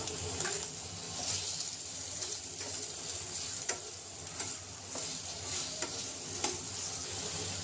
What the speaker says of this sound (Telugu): ఇప్పుడు నేను దీనిలోని రొయ్యలు వేసుకుంటున్నాను